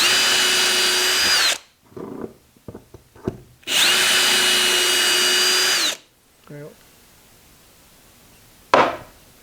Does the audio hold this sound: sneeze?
no